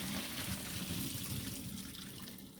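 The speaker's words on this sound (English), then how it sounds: "So we're going to drain our noodles, guys." Water from cooked macaroni noodles rushes into a kitchen sink as they drain, a steady broadband splash that stays loud throughout and surges again right at the end.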